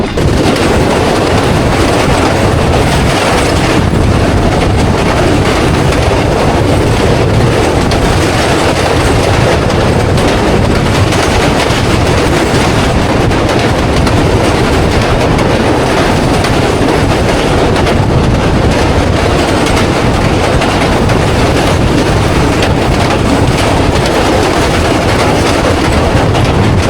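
Awam Express passenger train running between Rawalpindi and Lahore, a loud continuous roar of wheels and rattling carriages with rhythmic clickety-clack throughout, heard close from on board with no talking.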